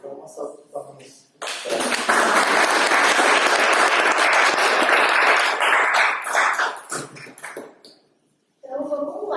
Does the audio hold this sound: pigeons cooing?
no